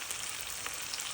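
Asafoetida frying in hot oil for a chicken fry, a steady close hiss and crackle of sizzling without pause.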